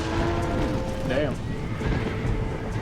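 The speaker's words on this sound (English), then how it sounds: "They're spooked! We have to stop the stampede!" Horses in the Red Dead Redemption video game neigh and whinny with clip-clopping hooves over constant game background noise. One loud whinny stands out in the middle.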